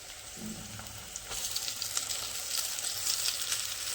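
Chowmein noodles dropped into a hot pan with frying chilli chicken in a village kitchen: a low thud, then the sizzle swells louder and crackles steadily up close, no speech.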